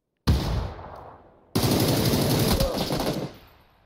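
SCAR assault rifle fire in PUBG sounds as two loud, close bursts of rapid automatic shots, a short one followed after a brief pause by a longer sustained burst.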